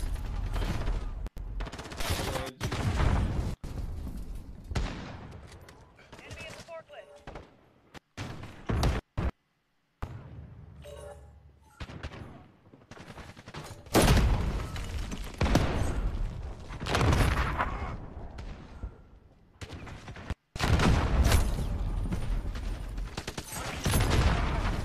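Video game gunfire, bursts of rapid shots and thumping blasts coming in dense clusters with short gaps of quiet, loud and close throughout.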